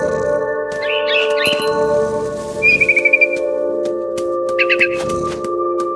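Bird chirps and short tweeting trills from a mama bird in the video game What Remains of Edith Finch, heard in brief bursts over a steady droning game ambience with a few sharp clicks.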